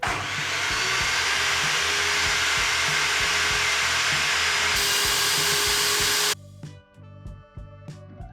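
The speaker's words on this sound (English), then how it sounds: "We just finished cutting up all this vertical strapping using our new power tool" A new table saw rips through wooden vertical strapping while framing a camper van, a loud steady whine with repeating low thumps that runs for about six seconds, then cuts off into quieter workshop clatter.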